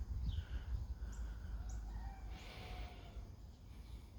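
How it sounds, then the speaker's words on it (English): A rooster crows faintly in the distance several times over quiet outdoor background noise in a town. "I just heard a rooster."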